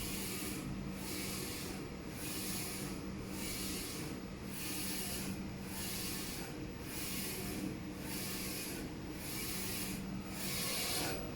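A DTF PET film printer with Epson i3200/4720 printheads runs at fast speed, its carriage sweeping back and forth in a regular whooshing rhythm about once a second over a steady mechanical hum, faint and without voices.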